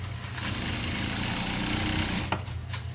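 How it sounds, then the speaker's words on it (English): A sewing machine runs a seam on a buba, an African garment, as a close, continuous droning rattle that keeps an even pace with a small knock near the end. "Going to sew it with 1/2 inch seam allowance."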